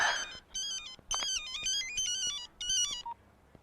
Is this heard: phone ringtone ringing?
yes